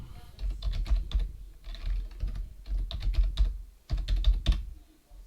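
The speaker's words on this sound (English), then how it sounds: "If I type a gamer tag over here and an email," Fingers typing on a computer keyboard in several quick bursts of close, crisp key clicks, separated by short pauses, entering details into a website sign-up form.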